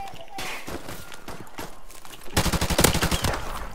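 Close, rapid gunfire bursts in a first-person shooter game, sharp repeated cracks that grow louder and denser toward the end, with footsteps and a voice mixed in.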